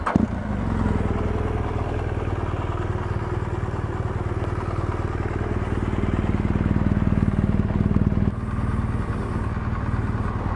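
A BMW R1200GSA motorcycle is ridden, its engine giving a steady close throaty drone with wind rumble and a slight dip near the end.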